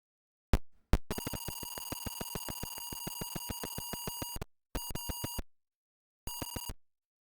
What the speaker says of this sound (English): the actual Atari home computer used to make these noises, when you would load a disk